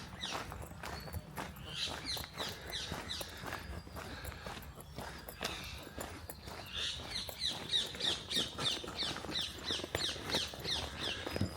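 Birds sing outdoors beside a railway line with little traffic, high repeated chirps that grow clearer in the second half, heard alongside steady footsteps on a path crunching along at walking pace, with no talk.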